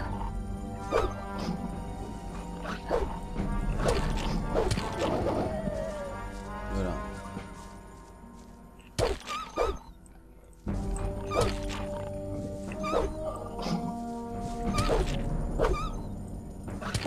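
Dogs bark and yelp in the video game Gothic, with crashing hits and whimpers mixed into a busy, continuous fight that breaks off briefly near the middle; a voice talks over parts of it.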